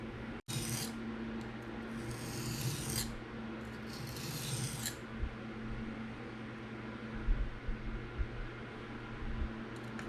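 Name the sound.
knife blade sharpened freehand on Atoma diamond plate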